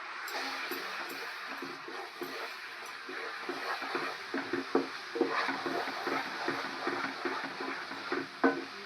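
Besan burfi mixture is stirred in a pan as sugar syrup is poured in, giving a soft, continuous scraping and gentle sizzle with faint clinks from the spoon.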